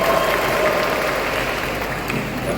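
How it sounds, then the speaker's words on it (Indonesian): A student audience at an alumni and youth declaration gathering in Yogyakarta breaks into steady, dense applause. The clapping keeps a constant level throughout and carries no talk over it. "Berikan tepuk tangan yang meriah buat kita semua."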